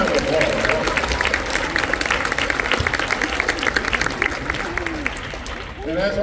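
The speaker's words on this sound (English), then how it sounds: "Give a round of applause." A school concert audience claps for a high school jazz band, a steady wash of many hands that continues under voices and some crowd noise before it tapers off at the end.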